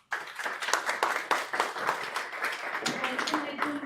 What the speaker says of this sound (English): Can I have a huge round of applause?